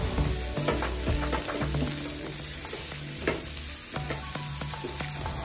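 Onions and curry leaves sautéing in a pan, a continuous crackling sizzle with scattered sharp pops and spatula scrapes, close and moderately quiet, no voices.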